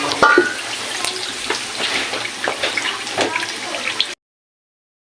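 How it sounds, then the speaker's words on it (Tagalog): Lechon paksiw bubbling in a pot, a busy crackling, hissing simmer with scattered pops that runs steadily and then cuts off abruptly. "Ang lechon paksiw, ayan, mamaya pa, pakuluin muna natin."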